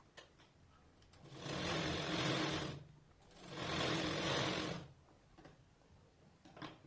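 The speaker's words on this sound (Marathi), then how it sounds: "दोघ बाजूने आपण शिलाई मारून घेऊ" A sewing machine runs in two sustained stitching bursts of a couple of seconds each, separated by a short pause, as side seams are sewn on a blouse, close and fairly quiet with no talking.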